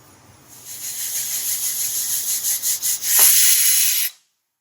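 Steam hisses loudly from a pressure cooker cooking mutton over a medium flame, pulsing briefly before a strong final burst, then cutting off into silence.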